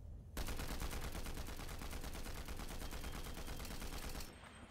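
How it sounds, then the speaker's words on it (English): Rapid automatic gunfire in Fortnite, a loud continuous burst of evenly spaced shots lasting about four seconds before cutting off abruptly. "I missed all my shots there"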